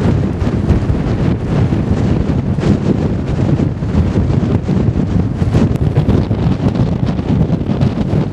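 Strong, steady wind roars and buffets the microphone without letup on a mountain at about 4200 metres during a winter climb of Mount Ararat, a loud, continuous rushing with no voices.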